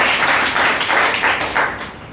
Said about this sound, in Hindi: आप अपने लिए एक बार जोरदार ताली बजा सकते हो